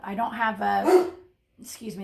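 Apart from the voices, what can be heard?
dog barking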